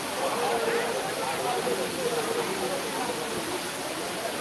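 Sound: Courtallam waterfall, water falling

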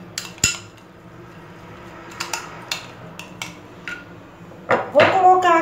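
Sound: mixing cabbage salad with pineapple and mango in a bowl

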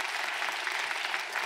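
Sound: audience applause for actors

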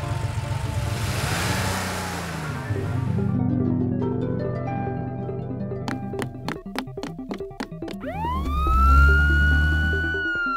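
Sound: police car siren

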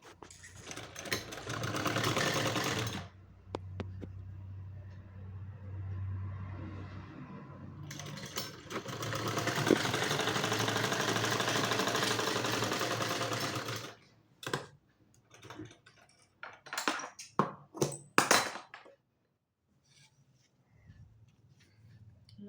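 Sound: sewing machine stitching a suit

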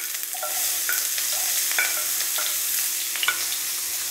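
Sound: onions and dried red chillies frying in tempering

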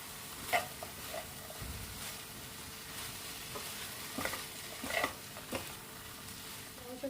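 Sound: leftover roti noodles being stirred and mixed in a pan

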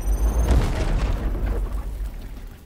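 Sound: grenade explosion in video game Warhammer 40k: Chaos Gate - Daemonhunters

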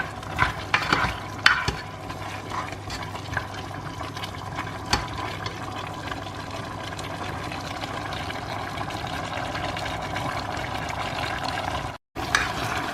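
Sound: stir-frying fish with salt and fish sauce

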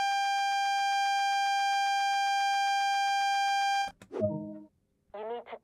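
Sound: train AWS self-test alarm, video game

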